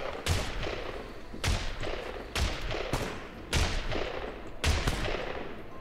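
Gunfire in the survival video game SCUM, five heavy bursts of shots spaced roughly a second apart, each loud and sharp with a rumbling tail over a constant noisy background.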